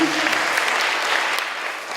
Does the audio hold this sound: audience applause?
yes